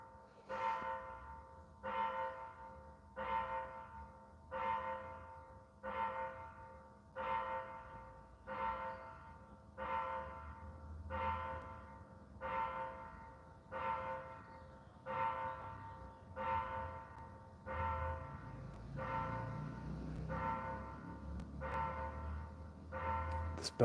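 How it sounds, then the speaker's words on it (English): A church bell in Oaxaca, Mexico tolls in a slow, even series of about eighteen strokes, each ringing out and decaying before the next, moderately distant with no speech over it. "This bell goes on for a long time."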